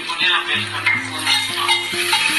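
Metal spoon stirring onions and ginger garlic paste in a pan for biryani: close scraping and clinking against the pan over a soft sizzle, with a voice talking over it.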